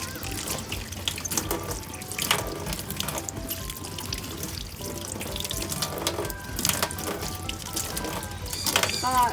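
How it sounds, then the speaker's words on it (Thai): Vegetables are rinsed under a running kitchen tap, water splashing and pattering into the sink with shifting gurgles as the produce is rubbed and turned, close and continuous with no talk. "ก็เปิดก๊อกน้ำแล้วก็ล้างแบบนี้เลยค่ะ"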